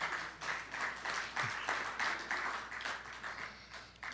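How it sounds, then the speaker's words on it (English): An audience at an energy and sustainability event in Toledo breaks into applause, heard as fairly quiet, slightly distant clapping arriving in uneven swells across the clip. "Give that a round of applause."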